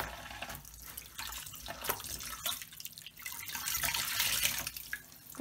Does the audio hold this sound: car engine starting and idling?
no